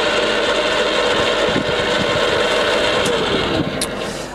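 A Boxford STS three-phase lathe runs at 115 RPM, giving off a steady, even mechanical hum with a faint whine and a few light clicks, close by and unbroken.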